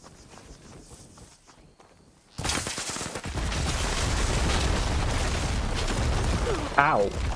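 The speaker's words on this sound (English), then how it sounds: "Why did I keep exploding?" Explosions in Horizon Forbidden West: after a quieter stretch, a sudden loud blast starts a sustained roar of booming, crackling destruction, with a brief chirping burst near the end.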